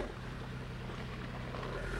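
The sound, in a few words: car engine running submerged in salt water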